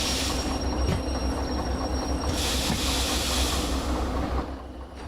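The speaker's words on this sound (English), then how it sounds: "Let's stop the train and see." A freight train rolls along in the video game Derail Valley, giving a steady rumble with a continuous hiss and brief squeals. The sound stays loud and close throughout, and nobody speaks over it.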